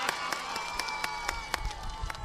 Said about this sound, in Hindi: अब बजाओ बच्चों, ताली बजाओ जोर से